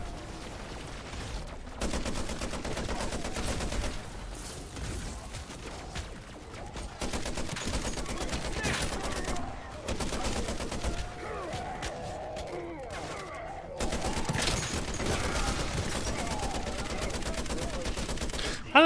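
Rapid bursts of gunfire from a weapon in MW3 Zombies, the game's season 3 mode, crackling in uneven volleys across the whole stretch with brief gaps, loud and close, mixed with other game noise.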